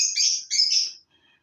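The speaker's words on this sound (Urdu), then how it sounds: "ابھی آپ دیکھ رہے ہیں کہ طوطے کتنا بول رہے ہیں" Pet parrots give shrill, close chirps and squawks, two long bright calls back to back, then a faint trailing twitter.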